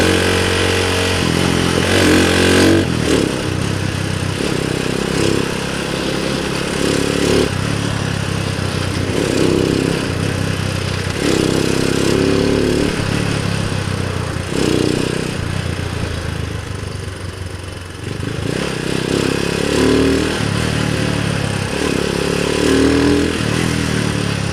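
A Rusi Gamma 200 motorcycle engine drones steadily throughout, rising and falling as it revs through gear changes while riding, with a brief dip in loudness near the end.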